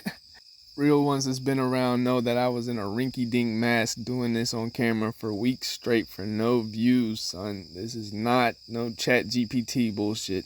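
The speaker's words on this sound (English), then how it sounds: "You hear the damn crickets in the background." Crickets chirp steadily at 5 in the morning, a faint continuous high trill running beneath someone talking close to the mic almost throughout.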